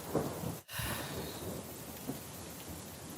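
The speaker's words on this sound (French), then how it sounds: "Et alors que la pluie s'estompe" Steady rain with a low rumble of thunder, a continuous dense wash of falling water that dips briefly and then carries on, with no voices.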